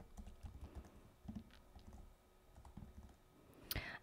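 Fingers tap on a computer keyboard, a quiet close run of irregular clicking keystrokes, ending with one sharper click.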